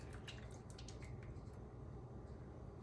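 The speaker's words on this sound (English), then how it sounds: "And then I'm going to pour my melted butter in there." Melted butter is poured into a bowl of flour and sour cream for biscuits, a continuous soft liquid pour and drip that is close and steady, with no speech.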